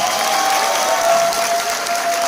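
A hall audience at a live poetry performance in Lahore applauds, a dense continuous wash of clapping with some cheering, loud and sustained with no speech on top.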